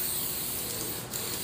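Spray finish being applied onto thirsty bare wood for a faux stone pedestal, a steady continuous hiss that stays close and even throughout, with only a brief dip near the end and no talking.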